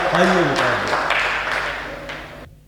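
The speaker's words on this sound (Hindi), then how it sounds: "जोरदार तालियां।" A live audience claps loudly during a humorous stage performance, a rough wash of hands that starts under a voice, gradually thins, and then cuts off abruptly.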